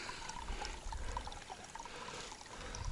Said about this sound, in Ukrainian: Ну як струмок біжить. Крижана водичка.